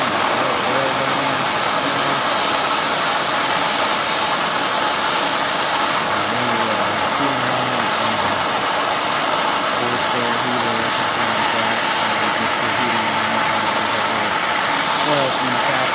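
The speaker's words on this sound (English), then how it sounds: "The torch may be getting a little low on fuel. It doesn't seem to have the power that it had before." Gas torch roaring loudly and steadily while heating a geopolymer test puck, a constant broadband rush with no breaks throughout.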